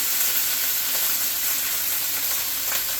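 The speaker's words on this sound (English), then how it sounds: "God, I love that sizzle." Steady, loud sizzling of rice frying in a hot wok, a continuous crackling hiss with no talking.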